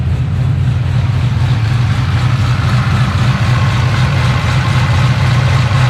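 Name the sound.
cammed Holden VE SS Ute engine idling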